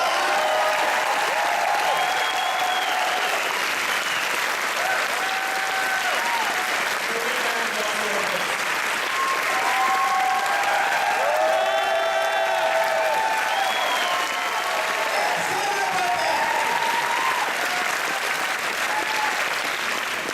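Audience at a film festival's midnight premiere screening and Q&A applauds and cheers steadily for about twenty seconds, a dense, loud wash of clapping with scattered whoops and voices rising throughout.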